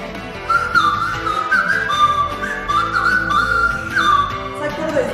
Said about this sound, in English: It's like one of those whistle lollipops, but better.